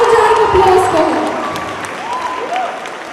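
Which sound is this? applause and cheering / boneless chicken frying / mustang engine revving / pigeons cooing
applause and cheering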